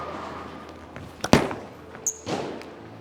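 Bowling ball striking the pins, leaving a stoned 9-pin: one sharp crash of pins scattering, followed by a few fainter clatters as they settle, with no talk.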